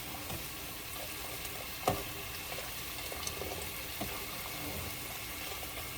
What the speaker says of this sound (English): there we chunk in the dal